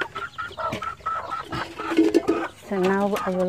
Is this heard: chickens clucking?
yes